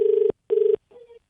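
Telephone ringback tone as a call is placed: two steady, loud rings separated by a short gap, then a third, fainter ring that cuts off.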